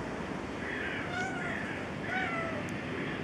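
Crows caw repeatedly, a run of harsh calls over a constant broadband hiss of rainforest ambience, playing from a TV nature documentary.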